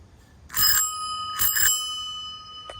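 A Gazelle bicycle's bell rings twice, clear and close, with a bright metallic tone that lingers and fades between strikes; a faint tap follows at the end.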